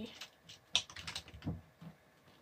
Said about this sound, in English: I'm using my new gaming keyboard